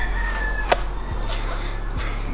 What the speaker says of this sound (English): Hope you guys weren't too bothered by the roosters.